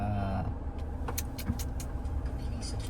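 A car moves slowly through heavy city traffic. A low engine rumble runs underneath, with faint mechanical clicks and a passing tone, all fairly quiet.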